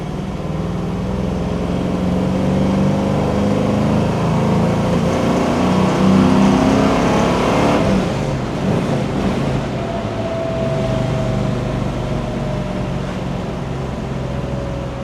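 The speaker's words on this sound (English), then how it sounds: "A couple of tweaks that have been done to this 390. It sure runs harder than a lot of the 428s" A 1969 Ford Mustang Mach 1 with a tweaked 390 S-Code V8 and a 4-speed runs loud and steady for about fifteen seconds, a deep continuous rumble that rises slightly and then eases, with no voices.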